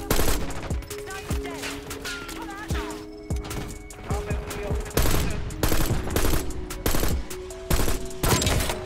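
Burst fire from a SWAT 556 rifle in Black Ops 6, repeated sharp multi-round bursts punctuating the match, with a player talking throughout.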